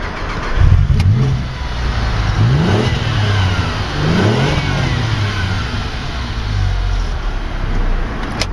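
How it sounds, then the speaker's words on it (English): A keyless car's throaty engine revs hard and accelerates, rising and falling pitch sweeps as it pulls through gears, loud and close with no talk. "That throaty engine takes this car from 0 to 60 in a shade under 6 seconds."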